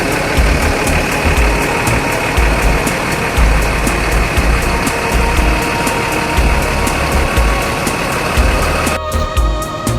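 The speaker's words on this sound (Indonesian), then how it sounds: "Kita dengarkan sedikit suara dari mesin Hino RK8 ini." A Hino RK8 bus engine runs steadily at idle, a continuous low rumble and mechanical vibration close to the microphone with a faint rhythmic ticking above it, then it cuts off abruptly near the end.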